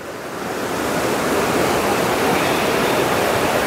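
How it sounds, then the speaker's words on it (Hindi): The Raru river roars through the Johna waterfall near Ranchi as a dense, steady, full-bodied rush of water, loud and close, with no voices. "नदी का शोर देखिए, उसे आपको अंदाजा होगा कि किस तरह का ये यहाँ पर वाटरफॉल का आज भयानक रूप है।"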